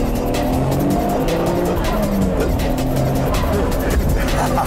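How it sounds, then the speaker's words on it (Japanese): A 500-horsepower NISMO Skyline accelerates hard from a highway toll booth, its engine roaring loud and close with a continuous strained note. "ではちょっと料金所から加速してみたいと思います。"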